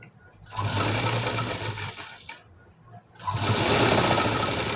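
Electric sewing machine stitching a high-neck blouse, two loud sustained bursts of fast whirring stitching separated by a short quieter pause, heard up close.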